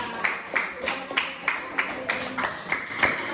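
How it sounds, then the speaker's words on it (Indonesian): A classroom applauds a student group after their forest poem, with evenly spaced claps repeating steadily about three times a second, moderately close and fairly quiet, with a light crowd murmur underneath. "tepuk tangan untuk kelompok Kamila"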